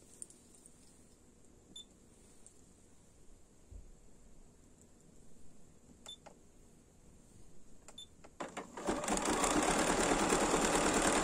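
Bernina 780 embroidery sewing machine stitching a motif, starting with faint beeps and soft mechanical ticks before the rapid needle runs up to a loud, steady whirring stitch.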